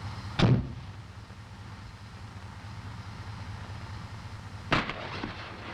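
Two sharp explosive bursts from grenades during an M551 Sheridan armored reconnaissance vehicle firing exercise, one early and another about four seconds later, each a brief loud crack over a steady low rumble.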